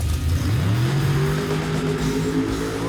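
1955 Chevy Bel Air gasser drag car launching down the strip, its engine revving loud and close with the pitch climbing steadily as it accelerates through the gears.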